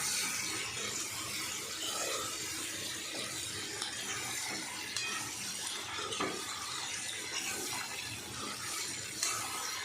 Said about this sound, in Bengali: তো এটা একটু ভাজা ভাজা করার সময় দিচ্ছি বন্ধুরা।